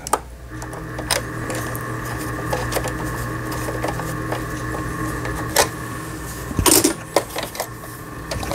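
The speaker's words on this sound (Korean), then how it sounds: "이번에서 이제 직선 바느질이죠" A Singer 3827 home sewing machine sews a straight stitch after repair, making a close, continuous mechanical whirr with fast rhythmic ticking and a few louder clacks near the end.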